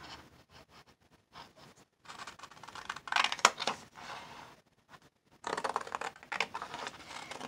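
Scissors cutting a strip of paper for a postage-themed envelope pocket, heard as soft, close snipping and paper rustle in short bursts with brief pauses, no talking.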